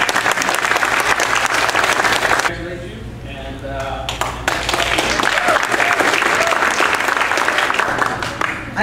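Applause from an audience at a state-level student award ceremony, steady dense clapping that fills the room throughout, dipping briefly in the middle before swelling again, with voices mixed into the noise.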